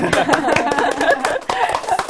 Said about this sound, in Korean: 박수 한번 다시 치고.